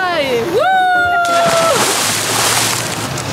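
A person shouts a rising, drawn-out whoop, then jumps into the sea with a loud splash off Phi Phi Island in Thailand, followed by a broad, rushing wash of churning water.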